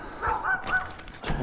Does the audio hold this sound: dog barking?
yes